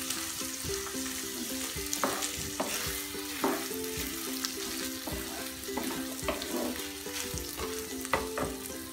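Rice being fried in a pan over a medium flame for Kashmiri pulao, soft continuous sizzling with frequent scraping stirs of a spoon against the pan.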